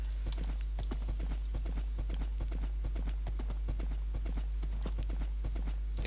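Rapid, rhythmic hoof clip-clops repeat steadily over a constant low hum, like a Minecraft horse trotting along.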